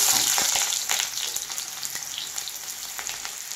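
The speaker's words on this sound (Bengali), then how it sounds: "এবারে এটাতে আমি পেঁয়াজ দিব।" Onions hit hot oil in a pan and sizzle loudly up close, with crackling pops. The hiss eases slightly after the first second and then settles into a steadier fry, with no voices.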